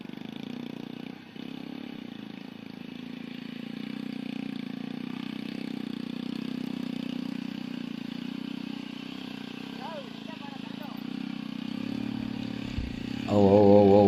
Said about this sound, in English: you can see the bike is struggling. As the surface is too wet, I can't give the full acceleration.